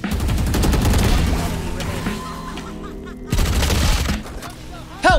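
Dense rapid gunfire from the game Valorant fills the clip in loud sustained bursts, with a brief pause and a final sharp blast, and players' voices talk over it.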